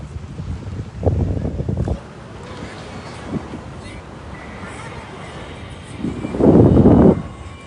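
Strong wind gusting at sea around a small fishing boat, a steady noisy rush with louder bursts near the start and end, voices talking faintly underneath.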